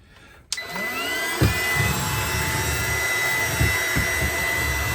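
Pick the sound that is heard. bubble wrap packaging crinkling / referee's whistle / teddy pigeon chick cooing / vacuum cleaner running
vacuum cleaner running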